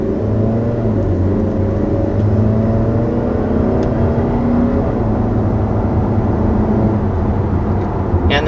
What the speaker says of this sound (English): that engine is going to be a 2-liter turbo 4-cylinder, making 228 horsepower and 258 pound-feet of torque